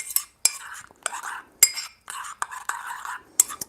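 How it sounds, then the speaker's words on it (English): A spoon stirs freshly made coffee in a cup, giving a run of quick, close metallic clinks and scrapes in bursts with brief pauses between them. "So I'm just gonna mix it while water is boiling for the steaming"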